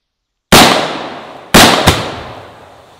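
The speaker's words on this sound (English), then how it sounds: "the bullet probably hit the top of that canister of the explosive, spilt the gunpowder, and then it caught flame" A gunshot strikes a canister of explosive, then the spilled gunpowder catches flame, giving three sharp loud bangs outdoors, one and then a close pair, each with a decaying rumble.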